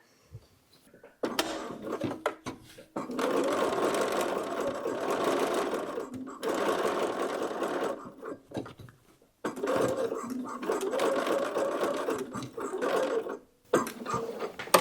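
A sewing machine runs a gathering line on a Folkwear Poiret cocoon coat reticule, stitching in several steady bursts separated by short pauses, fairly close and unaccompanied by talk.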